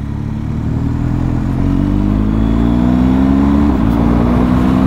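Motorcycles idle and rumble at an outdoor bike night, with a steady, loud low engine drone and one engine's pitch slowly rising as it revs, all continuous with no talk.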